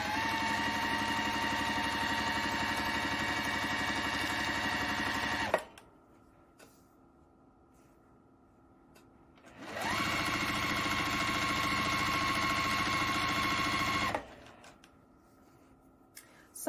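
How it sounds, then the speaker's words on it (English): A sewing machine runs a quarter-inch seam down a fabric strip for a baby quilt, its close, steady mechanical whir lasting several seconds, pausing for a few seconds of near quiet, then running again at the same speed before stopping. "We're going to stitch all the way down the length of the strip, making sure we keep that 1/4 inch seam allowance as we go."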